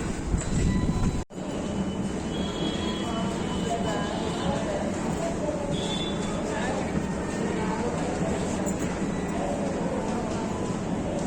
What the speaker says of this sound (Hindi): और ये पहुंच गई हूँ मैं अब Sarojini Nagar rail metro station पर